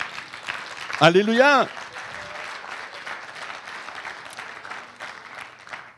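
A church congregation breaks into applause after a single voice rings out in praise, the clapping settling into a steady, moderately loud patter that continues throughout.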